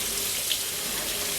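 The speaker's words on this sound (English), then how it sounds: "give it a good rinse" Tap water runs steadily over tumbled coins and jewellery being rinsed, a close, continuous hiss and splash without talk.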